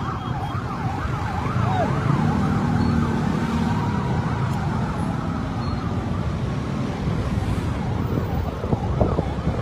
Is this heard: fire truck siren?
yes